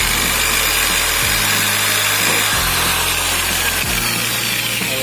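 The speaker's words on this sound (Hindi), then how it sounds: "तो जस्ट हमने ड्रिल कर दिया है और एक ड्रिल और करना पड़ रहा है" Electric drill boring a hole during repair of a broken ice tray door on an LG refrigerator, a loud steady motor whine with a few pitch drops as the bit bites, continuous and close with no talk.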